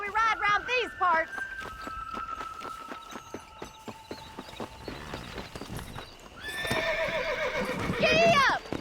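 Horses from the Red Dead Redemption video game whinny loudly at the start and again near the end, with steady clip-clop hoofbeats running between, close and prominent, while voices talk over the middle.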